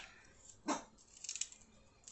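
A dog gives a single short bark in the background of a kitchen while keto hibachi ginger dressing is being blended. It is followed by some faint clattering, with no talk.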